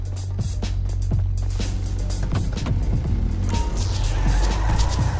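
A van in GTA V accelerates with a low engine rumble while short tire squeals and skids cut in over the drone, close and fairly loud throughout.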